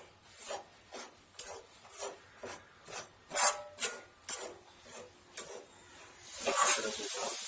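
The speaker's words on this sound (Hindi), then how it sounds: "इसको इस तरह से भूनना है, अच्छी तरह से इसको भूनिए।" Halwa is stirred and roasted in a pan over low heat, producing a series of rhythmic scraping strokes about every half second, close and clear, ending in a louder continuous hiss.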